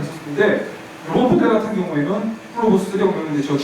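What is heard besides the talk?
No everyday noise stands out behind the speech.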